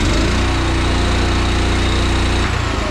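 A Böcher Junior 77 incline material hoist runs steadily up close, its engine drone loud and continuous with a rhythmic low throb, shifting slightly near the end.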